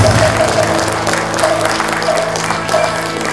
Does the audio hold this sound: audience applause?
yes